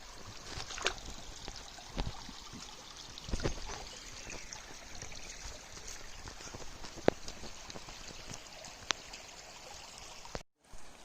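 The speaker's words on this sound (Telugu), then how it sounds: "ఫుల్ వాటర్ పడుతున్నాయి అక్కడ." Water pours steadily at Penchalakona waterfalls on a rocky trail, a soft, even hiss heard from a distance, broken by a few faint knocks and bumps.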